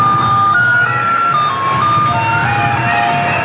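A card-operated kiddie ride car plays a steady electronic jingle of sustained tones, loud and close, over a constant low machine hum.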